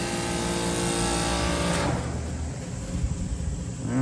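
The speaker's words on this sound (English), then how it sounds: "fan motor wasn't running, compressor was." An air conditioner outdoor unit with its compressor running while the fan motor stays off, heard as a steady, loud broadband hum and whir that shifts and drops in tone partway through, with no talking.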